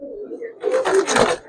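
A Giribaz pigeon coos close by, a low throaty rolling call that rises into a louder burst, with a voice talking over it.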